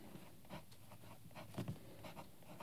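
A fountain pen with a broad 1.5 mm stub nib, wet with Sailor Bung Box Sumeragi Imperial Purple ink, scratches softly across paper in short strokes, faint and close, with no talking.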